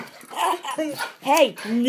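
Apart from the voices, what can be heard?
Swiss Mountain Dog barking and growling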